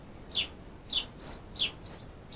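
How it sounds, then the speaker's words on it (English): A small bird chirps near outdoor decking, giving about five short, high, faint chirps spaced roughly half a second apart with no talking. "Oh, and the little bird has come to join us."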